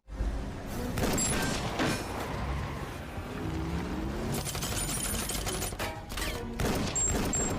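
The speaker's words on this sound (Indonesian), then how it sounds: "Dan aksi tembak-tembakan pun terjadi." Rapid bursts of gunfire crackle over a dense, booming action mix as a chasing car's occupants exchange shots, with shots and impacts piling up continuously and loudly throughout.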